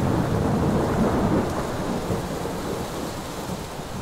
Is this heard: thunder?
yes